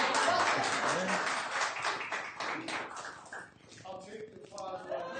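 Applause at a town council meeting, a moderate round of clapping from a small audience that thins out after a few seconds, with voices talking through it.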